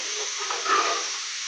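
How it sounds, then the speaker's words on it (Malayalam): Fish curry gravy of sardines with chilli boils in a pot on a stove, giving a steady close hiss with soft bubbling and a faint swell of sizzle partway through, no voices. "അപ്പോൾ നമ്മുടെ ഗ്രേവി തിളച്ചു കേട്ടോ"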